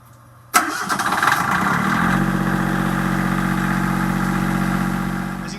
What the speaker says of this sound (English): Now we're going to do a cold start of the generator.